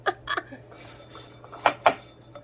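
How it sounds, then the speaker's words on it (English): Donut batter ingredients for gluten-free vanilla donuts are whisked in a bowl, heard as a few scattered scrapes and light clinks of a whisk against the bowl, with two sharper knocks near the end over a low steady hum. "Go ahead and whisk those together."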